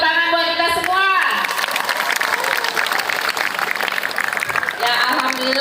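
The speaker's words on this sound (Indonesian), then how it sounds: "Tepuk tangan buat kita semua." Audience at a school outreach session applauding together, a burst of crowd clapping that rises after a short musical tone opening and carries steadily to the end, with a tone returning briefly.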